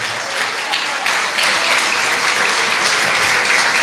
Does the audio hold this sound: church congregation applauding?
yes